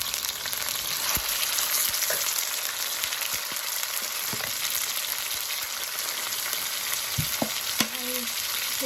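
Pork pad see ew noodles with soy sauce and fish sauce stir-frying in a hot pan, a dense continuous sizzle with scattered scraping and tapping of a utensil, no voices.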